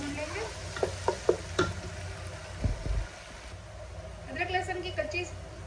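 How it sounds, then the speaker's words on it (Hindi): Ginger and garlic sizzle and get stirred in a pot with paya (goat trotters) for Hyderabadi paya nihari, a few sharp spoon clatters early on over a steady low fry, with a voice speaking toward the end. "इसे थोड़ा सा भून लेंगे"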